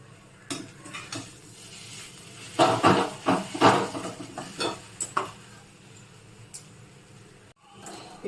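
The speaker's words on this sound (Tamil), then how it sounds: "இப்போ நல்லா சேர்த்து வதக்கி விடுங்க. நல்லா கலந்து விடுங்க." Ragi aval stuffing is stirred and sautéed in a pan, with a spoon scraping and clinking against the metal in irregular bursts over a faint sizzle.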